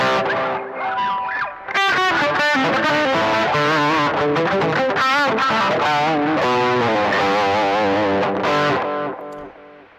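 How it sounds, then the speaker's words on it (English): Electric guitar runs through a pedal board and HX Effects unit with distortion and reverb, playing loud sustained chords and melodic bends up close, ringing out and fading at the end. "It's a guitar"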